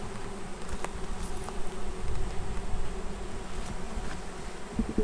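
Package honeybees buzz steadily inside a hive being set up, a dense continuous hum close by with faint sharper ticks and knocks scattered over it, no one speaking.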